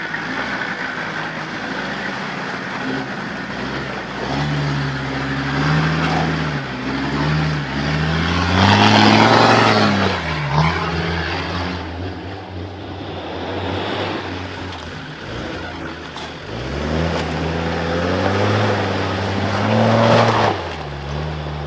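The loud, raspy engine of a Land Rover Discovery 2 with a louder exhaust revs and drops repeatedly, its exhaust rumbling low and rising in pitch as it works over uneven rock.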